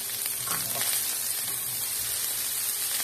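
Peppers and onions sizzle and crackle steadily in a hot pan, a dense frying hiss with faint stirring scrapes.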